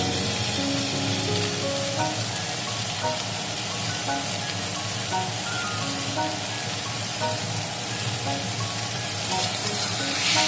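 Small chuno fish curry with chopped tomatoes, salt and reddened fried onions sizzles steadily in a pan as it is stirred, a dense, close crackle that holds an even level throughout with no voices.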